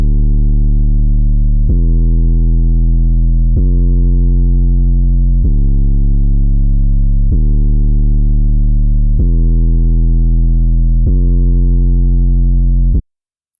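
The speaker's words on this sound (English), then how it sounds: "the next sound is the 808, and it follows the same pattern as the synth bass" Deep 808 bass from a dark trap beat built in FL Studio, seven long sustained booming notes in a steady repeating pattern, loud and alone with no drums or voices.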